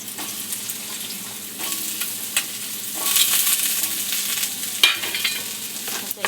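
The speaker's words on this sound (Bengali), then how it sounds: "আলুটাকে ভেজে তুলে নিলাম" Potatoes frying in white oil crackle and sizzle continuously, with a few sharper spits and utensil clinks, close by and building slightly louder midway.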